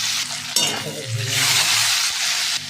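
Salted potatoes frying in hot oil in a wok for chowmein, a steady close sizzle with a brief stir and faint utensil clinks.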